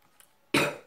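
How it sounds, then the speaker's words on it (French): A single sharp cough bursts out near the microphone, loud and abrupt, then trails off quickly. "Pardon, je tousse."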